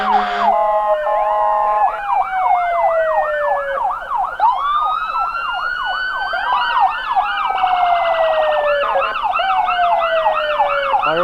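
Police car sirens wail loudly and close during a July parade in Malone, cycling through rising and falling yelp and wail patterns from more than one vehicle, with no talking.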